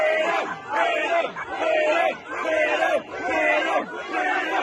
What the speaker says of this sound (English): A number of these protesters chanting freedom.